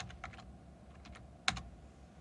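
Several light keystrokes tap on a computer keyboard, quiet and close, in a few quick irregular clusters with one sharper click midway, and no talking.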